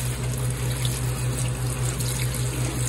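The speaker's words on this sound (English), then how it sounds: "So I need to drain them and rinse them with water." Cold tap water running into a sink while zucchini pickles are rinsed, a steady, close, loud splashing hiss with a constant low hum beneath it.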